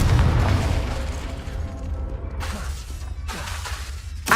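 A fiery blasting spell goes off in the Hogwarts Legacy video game: a loud low boom at the start fades into a rumbling tail, with a second burst and a sharp pop near the end.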